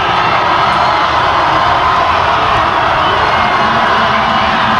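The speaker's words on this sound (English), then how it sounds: "Lake Highlands making a lot of noise across the way, trying to cheer on their defense here." A Lake Highlands high school football crowd in the stands during a bi-district playoff game, cheering on its defense with a steady, loud, distant roar of voices that holds without a break.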